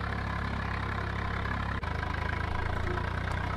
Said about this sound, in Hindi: सिंपल ट्रैक्टर है मॉडिफाइड।